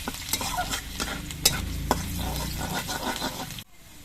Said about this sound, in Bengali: রসুনটা অল্প একটু সময় ভেজে নেব